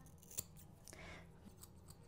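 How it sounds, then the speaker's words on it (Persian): Scissors snip through curly hair in a home self-haircut, a sharp single close snip followed by quieter brushing and rustling, faint overall with no talking. "یه کوچولو چند سانت اینجوری قیچی رو میزنم"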